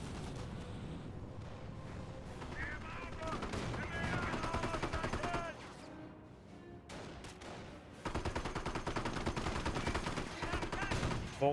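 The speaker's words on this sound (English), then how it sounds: "Looks like the engineers getting suppressed by this MG42." An MG42 machine gun fires in a Company of Heroes battle amid dense, continuous gunfire and rapid bursts, with booming artillery and explosions mixed in. The battle noise is loud throughout, dipping briefly in the middle before resuming.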